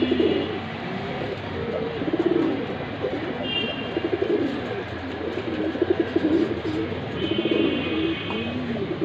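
A pair of Silver Bagha pigeons coo close by, repeated low throaty rolls coming in a loose rhythm over a soft background hum, with occasional faint chirps.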